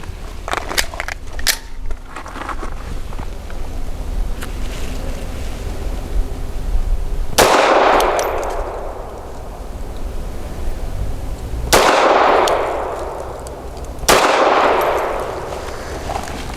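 Three loud, sharp gunshots from a Grand Power LP380 pistol firing 90-grain Speer Gold Dot rounds, spaced several seconds apart outdoors, each ringing off into a fading echo.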